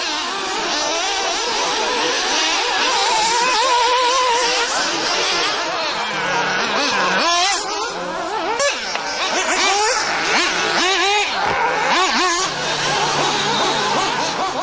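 1/8-scale nitro RC buggies race at the 1999 European Championship at Montmeló, Barcelona, with high-pitched, buzzing engines whining up and down in pitch, loud and continuous as they pass.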